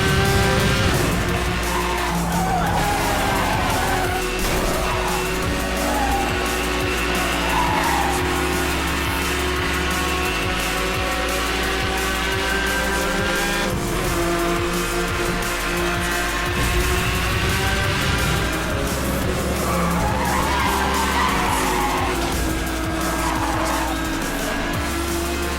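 In the racing video game Need for Speed Hot Pursuit, engines roar continuously and tires squeal and skid, all dense and loud with a busy mix of game sounds and no spoken voices.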